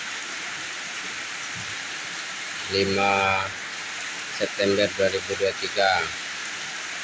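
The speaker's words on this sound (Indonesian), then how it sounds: "Dan kebetulan sekarang hari hujan" Steady rain falls on a Tuesday afternoon beside flood-water drainage channels on the east side of a mosque. It is a constant, even hiss throughout, with someone speaking over it partway through.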